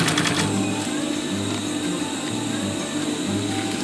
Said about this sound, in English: start sewing.